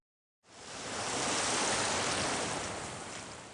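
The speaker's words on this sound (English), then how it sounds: "Big waves! Let's run back!" Big ocean waves breaking at the seashore, a loud broad roar of surf that swells in after a brief silence and holds steady as a continuous rushing wash.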